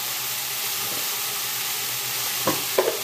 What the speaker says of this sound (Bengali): যেহেতু অল্প তেল তাই আলুটা ভাজতে একটু সময় লাগবে